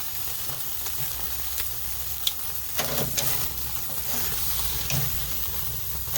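Steaks sear on a Chud Box grill with a constant hissing sizzle, moderately close, broken by a few faint clinks and shuffles as the meat is moved.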